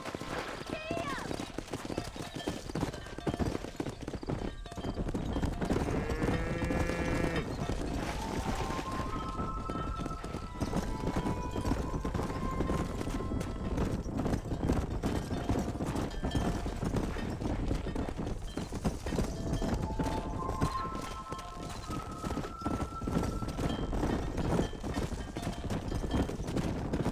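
A horse gallops in the Red Dead Redemption video game, with steady hoofbeats running continuously under game music, other sounds and occasional talk.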